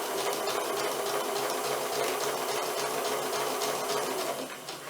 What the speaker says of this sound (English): So let's go ahead and start sewing. What a fun noise.